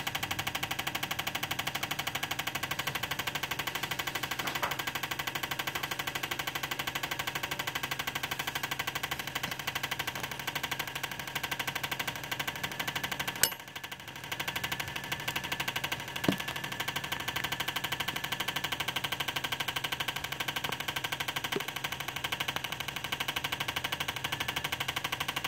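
Ford engine idling on a 24lb injector flow test, a steady, even drone with constant hum and faint ticking, held unchanged for a long stretch apart from one brief dip and a few sharp clicks.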